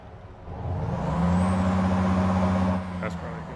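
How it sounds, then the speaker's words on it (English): A video game truck engine drones steadily with a low hum that swells then eases near the end, accompanied by a brief hiss. "Truck's still a little loud."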